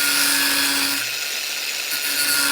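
An abrasive cutoff wheel slices through metal while building a homemade outboard trim tool, a steady close harsh grinding whine with a brief dip in the middle, no voices.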